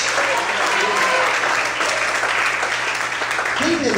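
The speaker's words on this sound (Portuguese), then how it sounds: "Mais forte as palmas." Congregation at a church service claps loudly and continuously in a dense, even wash of palms, with a preacher's voice faintly under the applause.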